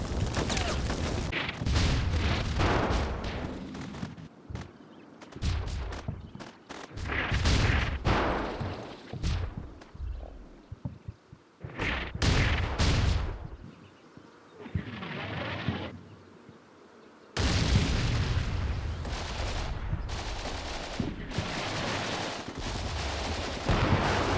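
Bombardment of an overrun base in Combat Mission Shock Force 2 brings repeated heavy blasts and crackling bursts of fire, loud and irregular with short quiet gaps between impacts.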